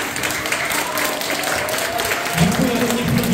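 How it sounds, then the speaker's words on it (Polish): A crowd applauds at a school ceremony for Polish independence after a children's performance, with sustained, dense clapping that swells slightly near the end as voices or music rise beneath it. "Jeszcze raz wielkie brawa."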